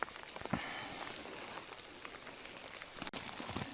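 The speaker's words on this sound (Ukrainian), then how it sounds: "Іде дощ, тому я не всі гриби знімаю" Steady rain falls in an autumn forest during mushroom picking, a dense even patter of drops on leaves and ground with a few louder nearby hits, continuous and close throughout.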